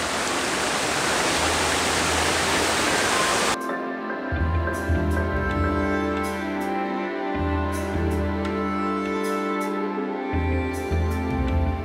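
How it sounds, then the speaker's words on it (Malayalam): A forest stream rushes loudly near Iruppu Waterfall in Karnataka, a dense close roar for about three and a half seconds before music abruptly takes over. "എൻ്റെ ബാക്കിൽ അടിപൊളി അരുവി"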